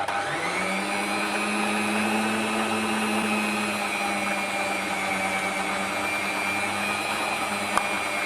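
An electric mixer kneads wheat bread dough made with milk and no egg or butter. Its motor spins up quickly, then holds a steady, loud whirring drone for about eight seconds, with no talking over it.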